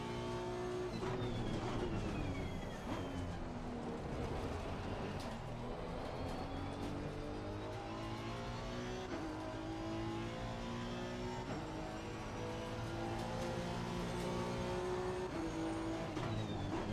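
A Porsche race car in a racing video game holds a continuous, loud engine note that climbs and drops through gear shifts, with rising revs and occasional tire noise. No one speaks.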